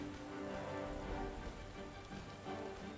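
Rain in the strategy game Empire: Total War, a soft, even hiss of drops pattering on surfaces, steady and faint throughout with no voices.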